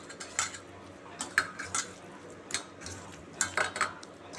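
A utensil scrapes and clinks against a bowl while mashed taro paste is mixed with mustard oil, giving soft, irregular stirring taps and scrapes at close range, fairly quiet, with no talking.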